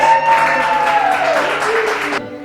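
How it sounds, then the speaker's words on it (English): Studio audience applause greets two contestants on a cooking competition show, a steady burst of clapping lasting a couple of seconds with a tonal music-like layer underneath before cutting off sharply. "Clap it up for them, please."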